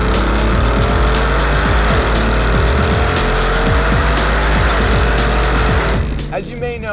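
A 2018 Aston Martin DB11 with a 4-liter twin-turbo V8 drives past at speed, loud engine roar and rising gear pulls filling the clip, then a fast pass-by fades at the end under a voice.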